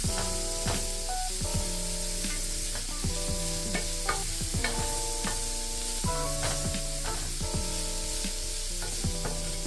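Vegetables sizzle steadily in a pot for goulash soup, a loud continuous frying hiss broken by frequent stirring scrapes and clanks of a utensil against the pot, with no talk.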